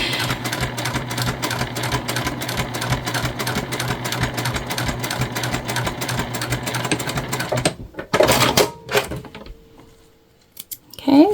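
A sewing machine top-stitches a beginner cotton key fob wallet, running in a steady rapid rhythm up close for most of the stretch, then stopping, followed by a few brief handling clatters.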